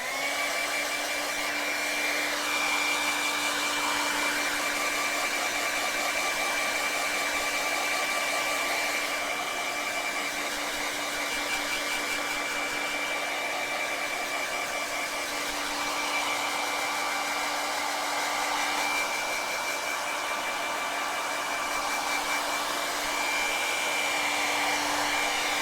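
A hair dryer blows steadily on wet acrylic paint of a cloud painting, a loud, continuous whirring hum that holds unbroken throughout with a fixed tonal whine.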